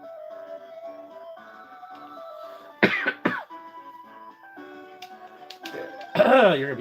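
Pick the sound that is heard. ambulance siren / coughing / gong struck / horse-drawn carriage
coughing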